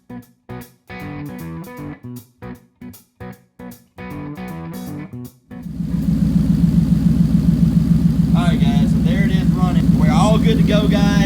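A twin-turbo Coyote V8 in an S550 Mustang settles into a loud, steady idle with an even throbbing rumble; people talk before it starts and over the running engine.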